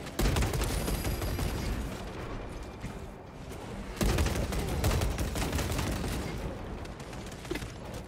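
Burst-fire rifle shots in Warhammer 40K Space Marine 2 ring out in dense, rapid volleys amid battle noise and booms, loud and continuous with a brief lull midway.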